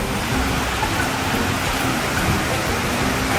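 Steady rain pours down during a storm, a dense, even hiss of falling water that holds constant and loud throughout.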